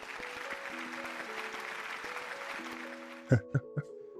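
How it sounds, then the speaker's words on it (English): A round of applause at the close of a sports betting course, spread evenly and moderately loud, ending with a few sharp separate claps. "Round of applause to you."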